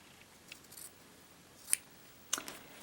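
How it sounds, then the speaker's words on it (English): A pair of scissors cutting through fabric quilt binding, a few quiet, sharp snips spaced apart in a calm room. "I just prefer to use a pair of scissors to cut that off"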